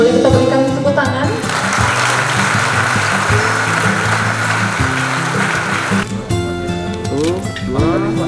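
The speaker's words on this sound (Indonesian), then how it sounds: "Boleh kita berikan tepuk tangan?" Students are applauded at a scholarship event at IT Del. A thick wash of clapping swells for several seconds over loud, steady music, which carries on after the applause fades.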